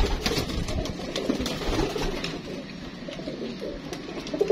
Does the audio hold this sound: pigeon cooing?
yes